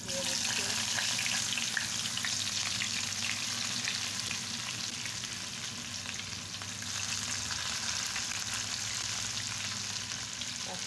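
Chopped onions and two cardamom pods frying in oil for a river pangas fish bhuna, a steady dense sizzle that holds at an even level throughout with no voices.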